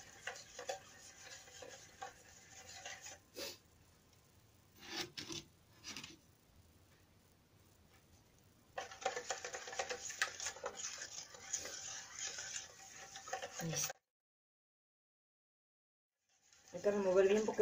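A dry seasoning marinade for oven-roasted pork being stirred in a bowl: bursts of gritty scraping and rubbing, close by, broken by pauses and a brief full silence before the stirring resumes.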